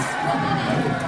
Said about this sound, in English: Let me hear you cheer for the white or the red rose!